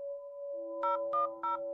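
A phone number being dialed: a steady dial tone runs throughout, with three short touch-tone beeps pressed in even succession near the end. The sound is clear, with no voices.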